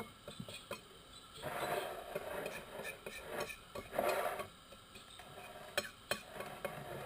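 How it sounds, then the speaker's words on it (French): Burger ingredients seasoned with Espelette pepper being stirred and mixed by hand, soft scraping and rubbing strokes with occasional clinks of utensil against a bowl, close and fairly quiet. "On va essayer de mélanger un peu tout ça."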